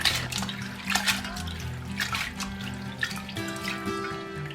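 Bean sprouts rinsed under running tap water, a steady splashing stream with occasional drips and sloshing in a sink, close and continuous, no talk.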